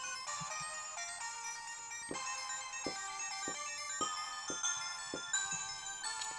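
Bubble Bobble chiptune music plays from an Evercade handheld, a bright bouncy melody over a steady thumping beat, fairly quiet with no talking.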